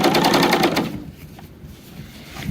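A sewing machine stitching and trimming away excess seam allowance on frayed fabric runs loud and fast with a steady buzzing whir, then stops, leaving quieter handling sounds.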